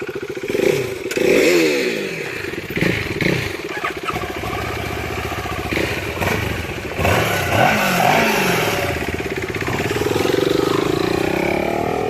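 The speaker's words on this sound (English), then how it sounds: "is he riding the bike around trying to get to know it?" Motorcycle engine revving and accelerating as the bike is ridden on a street, with repeated rising and falling pitch sweeps, wind noise and some talk over it.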